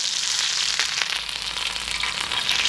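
Green chilies and cumin seeds sizzle in hot oil, a steady close hiss with fine crackling pops throughout, loud and unbroken with no talk.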